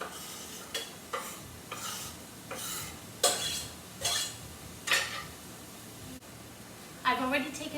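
Onions frying in oil in a pan over medium-low heat, a soft sizzle with repeated scraping stirs and utensil clinks, fairly quiet, while a person talks.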